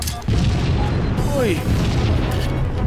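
Rocket launcher blasts in Halo 3 from The Master Chief Collection land as loud, heavy booms over a rumbling game mix. A player lets out a short exclamation.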